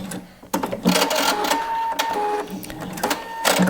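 A sewing machine stitches knit fabric for a wrap dress, running in short mechanical bursts with brief pauses between passes, close and steady with no voices.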